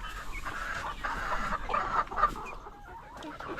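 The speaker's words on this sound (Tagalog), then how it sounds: "Yan na yung mga manok natin ngayon." Several chickens cluck and squawk close by in a busy, overlapping flurry, with soft background noise.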